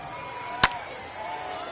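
A single sharp crack of a bat striking a pitch at a Yankees versus White Sox MLB game at Field of Dreams, with a crowd murmuring underneath.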